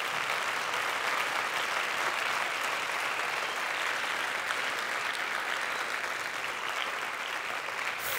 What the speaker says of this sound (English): I want you to give them the most massive,